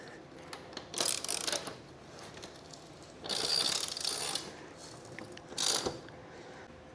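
Rim lock being tightened down on the wheel of a Rawrr Mantis X Pro off-road e-moto, heard as three separate bursts of close metallic ratcheting, each lasting about a second, with quiet gaps between them.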